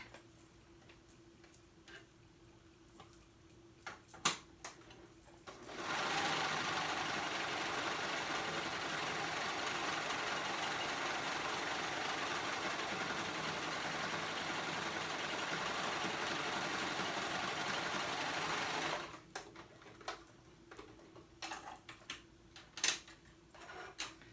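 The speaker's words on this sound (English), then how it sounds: "So I'm going to go ahead and top stitch real quick." A sewing machine top stitching a jacket that converts into a backpack, running in one steady, even whir for about thirteen seconds between quieter stretches of clicks and handling noises, close and moderately loud.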